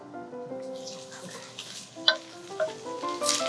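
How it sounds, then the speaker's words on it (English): Spinach wilts in a frying pan, giving a soft, steady sizzle with stirring scrapes and a few sharp clinks, all faint and close. A sustained tonal hum sits underneath throughout. "Now I'm gonna quickly wilt my spinach."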